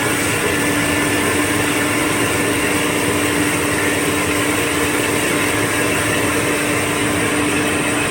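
A Rainbow E2 Platinum vacuum cleaner runs on its high setting, giving a steady, loud, close motor whir and rushing airflow with a constant tonal hum, unbroken for the whole stretch.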